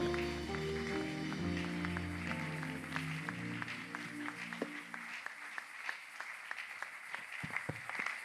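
A church congregation at a French-language worship service claps and cheers to praise God as a minister steps forward; scattered, rhythmic claps ring out over sustained musical tones, growing sharper toward the end.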